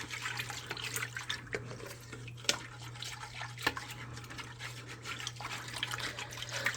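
Meatball mixture for Crock-Pot Salisbury meatballs stirred in a slow cooker, giving soft, wet sloshing and occasional faint clicks over a low steady hum, quiet and without talk.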